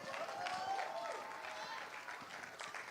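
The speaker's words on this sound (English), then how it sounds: "Let's give them all another round of applause." Applause from a crowd at a Kwanzaa kinara lighting in Motor City, steady clapping with some cheering, fairly faint and distant, continuing evenly throughout.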